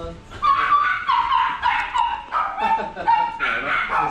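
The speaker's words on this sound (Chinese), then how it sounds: "我们来接狗狗" A dog being collected at an RV campsite gives a run of close, repeated yelping barks and whines throughout, overlapping with people talking nearby.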